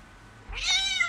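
A large house cat gives a single rising meow indoors, starting after a short quiet moment and holding bright and clear for about half a second, close to the listener with no talking.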